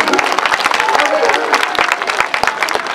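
Audience at a live comedy stage show in Beni breaks into loud, dense applause, many hands clapping rapidly and continuously close by, with some crowd voices mixed in.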